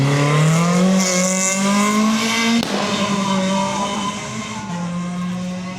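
A Ford GT40 race car at a hillclimb, its engine tuned rich, roars loud and close with a steady harmonic drone that shifts pitch midway as it revs and settles, with no talk over it.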